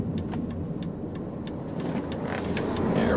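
A 2003 Chrysler PT Cruiser Limited turning around, its engine a steady mid-level hum with road noise and a few light clicks, swelling slightly toward the end.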